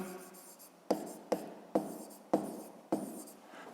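A pen writes in a notebook while working a fifth-grade maths exercise, making five crisp, evenly spaced scratchy strokes that each start sharply and trail off, close and alone with no talk.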